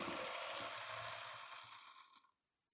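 A sewing machine runs close up while stitching a quilt block, a fast steady mechanical whirr that slows and stops near the end.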